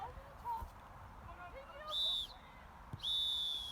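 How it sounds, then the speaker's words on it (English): A referee's whistle blows twice during an amateur football match, two short shrill blasts about a second apart, heard over faint crowd noise and distant voices. "Referee's put the whistle in his mouth."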